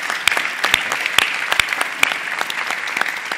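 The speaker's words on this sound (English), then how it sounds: "Please give a massive round of applause for our panel" Audience applause at the close of a panel session at an entrepreneurship conference, steady dense clapping with sharp individual claps standing out, fairly close and sustained throughout, with no talking over it.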